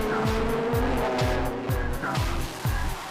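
Race cars at the Spa circuit, including a Mazda RX-8 and a Peugeot, scream past at full throttle. The engine note climbs and drops in a quick rhythmic series of gear changes over a continuous, loud roar.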